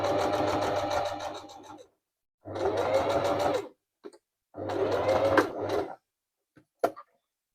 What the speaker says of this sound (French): ça sert à rien de tirer sur le tissu. On accompagne sa machine.